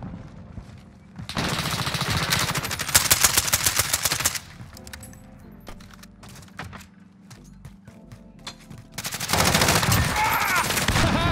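Rapid automatic gunfire from a video game weapon, bursts of dense machine-gun fire separated by quieter stretches with scattered single shots, loud and close.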